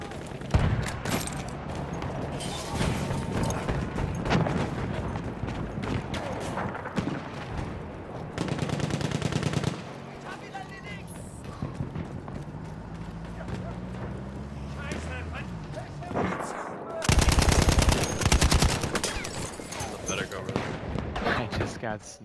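Machine gun fire in the World War I shooter Battlefield 1: long rattling bursts and scattered shots over ongoing battle noise, with players' voices heard in between.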